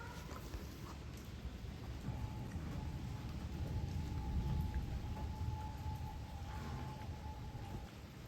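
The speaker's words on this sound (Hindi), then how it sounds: "बाहर काफ़ी अच्छी बारिश हो रही है आज" Steady rain falls outside at night, a soft continuous wash of noise that holds even and unbroken from start to end, with no voices.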